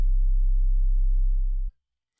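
A synthesized 808 kick dialed down to a plain sine wave drones as a loud, steady low hum for about a second and a half before cutting off abruptly into silence.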